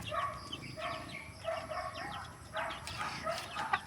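Chickens make soft, faint clucks and short calls in a quick series near a coop, with a few brief sounds between them.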